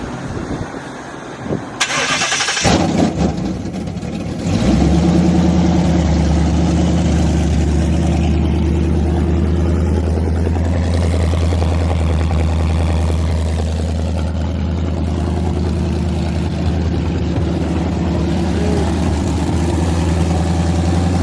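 A rebuilt Mustang GT 5.0 V8 with stock exhaust cranks and fires loudly after a few seconds of quiet, then settles into a steady, rumbling idle that holds close and strong for the rest of the span.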